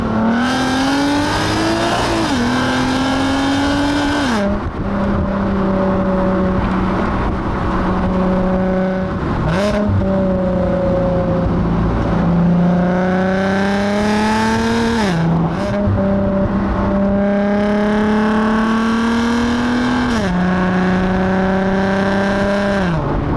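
A Nissan 370Z Roadster's engine pulls hard on a road drive, loud and close, rising in pitch through several gears with a short dip at each shift, and with no voices.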